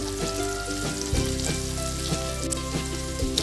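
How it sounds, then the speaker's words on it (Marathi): Prawns coated in rava and rice flour sizzle steadily in hot oil over a medium-high flame, with a dense crackle and a few soft pops, close and continuous. "आता हे फ्राय करून घ्यायचे तेल तापलं आहे कोळंबी फ्राय करून घ्यायची आहे"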